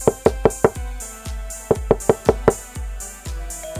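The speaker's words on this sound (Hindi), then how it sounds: "रात को उनके दरवाजे पर दस्तक हुई।" Knocking at a house door at night comes in two bursts of four loud, close raps separated by a short pause, with no voices.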